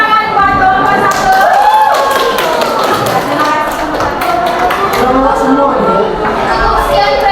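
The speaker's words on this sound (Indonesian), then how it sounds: "tepuk tangan buat nomor 1." Audience clapping for the first presentation group at a school coaching and academic supervision session, a steady dense wash of hand claps with a voice briefly rising over it.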